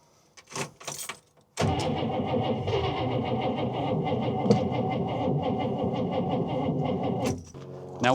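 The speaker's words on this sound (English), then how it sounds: "maybe we give this thing all 200 ponies" A 1961 Buick engine cranks briefly with a couple of short bursts, pauses, then catches and roars into a loud, rough, steady idle for several seconds before dropping off, heard close with no talk.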